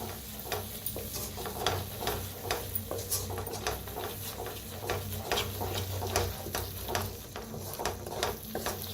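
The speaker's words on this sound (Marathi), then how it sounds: "आता मिक्स करून भाजून घेऊया आपण" Garam masala and red chilli powder sizzle and roast in a pan while a utensil scrapes and stirs in quick, steady strokes, close and continuous with no voices.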